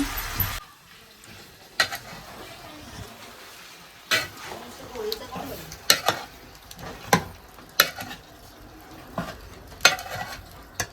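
Spices sizzle in hot oil while a utensil scrapes and taps against the pan at irregular intervals, with a quiet voice now and then.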